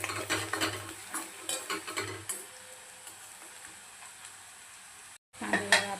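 Chopped onions stirred in a pan while frying for a dhaba-style chicken curry, with a utensil scraping and clinking in a quick, uneven rhythm over a steady close sizzle, then a brief pause before more stirring.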